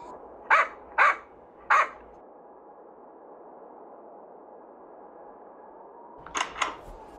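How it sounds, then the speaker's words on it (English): A dog barks in a Roblox video game, three sharp, loud barks in quick succession, then a pause with a low background hum, followed by two softer, closely spaced barks. "was that a dog I heard barking?"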